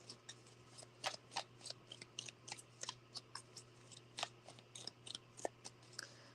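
Tarot cards are shuffled close to the microphone, giving a run of quick, crisp riffling slaps and flicks in irregular bursts over a faint steady hum.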